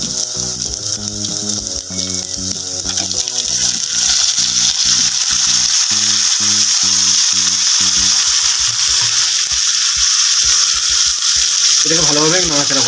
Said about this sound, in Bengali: এরপর দেখুন মটন মানে খাসির মাংসটা আমি এতে দিয়ে দেবো ভালোভাবে কষানোর জন্য।